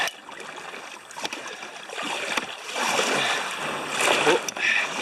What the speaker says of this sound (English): it's quite hard to get a decent bite of the paddle